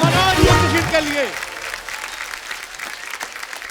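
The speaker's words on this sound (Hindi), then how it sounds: "जोरदार तालियां शिल्पा शेट्टी, बादशाह और मनोज मुंतशिर के लिए।" Studio audience applauding on a Hindi TV comedy show as Shilpa Shetty, Badshah and Manoj Muntashir are welcomed; a host's voice rings over the opening, then steady clapping continues under the announcement.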